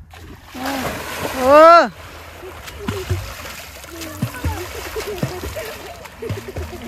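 Water splashes as people bathe in the Ajay river, with scattered sloshing close by while several voices talk and call out over the riverside sound, including a loud shout early on.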